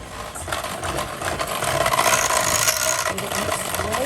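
Cake batter of oil and eggs being mixed in a bowl, probably with an electric mixer, a steady close whirring and churning with a dense scraping texture that holds at an even level throughout.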